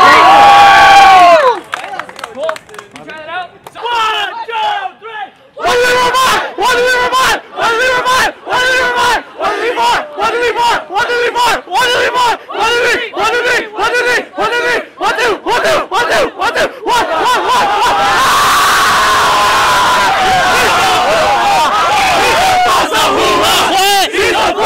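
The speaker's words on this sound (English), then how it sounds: "this one special cheer that we have at CSUN Fossa" CSUN FASA members shout a rhythmic team cheer together, a loud crowd of voices chanting in rapid repeated bursts, building into sustained group yelling and cheering toward the end.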